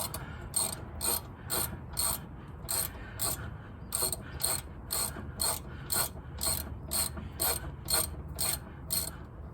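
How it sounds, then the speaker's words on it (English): A ratchet loosening a rear brake caliper bolt, steady repeated clicking strokes in an even rhythm, close and clear over quiet background. "So we'll go ahead and start loosening this bolt."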